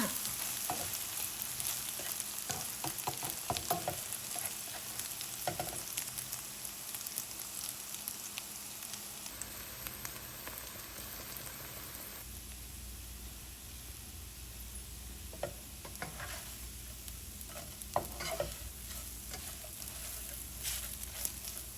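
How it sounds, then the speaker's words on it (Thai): Okra and egg being stir-fried in a pan, a steady dense sizzle with frequent scraping and stirring clicks from a utensil, close and continuous with no talk. "ก็คั่วไข่ไปเรื่อยๆนะคะคั่วไข่ไปเรื่อย ๆหอมแล้วว่า"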